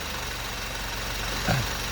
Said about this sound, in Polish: słychać po silniku jak ciągnie